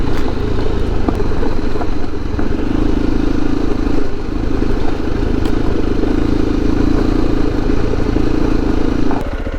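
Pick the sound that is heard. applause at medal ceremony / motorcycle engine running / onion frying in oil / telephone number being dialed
motorcycle engine running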